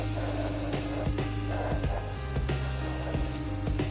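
Steady hissing spray from a spray paint can coating a vase lid, continuous with a few short breaks, close up and fairly loud.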